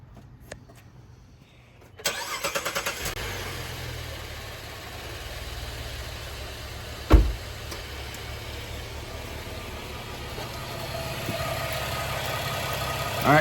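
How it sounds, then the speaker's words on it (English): A Buick Enclave engine cranks and catches after a quiet moment, then settles into a steady, even idle with a brief louder bump midway, heard up close with no talking. "now what I'm going to do is start the car"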